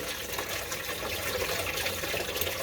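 Tap water runs steadily into a container at home, a continuous broadband splashing rush held at an even level throughout, close by, with no voices.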